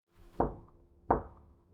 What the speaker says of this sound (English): he hears a very gentle knock at the door